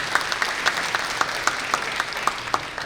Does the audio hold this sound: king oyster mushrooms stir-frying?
no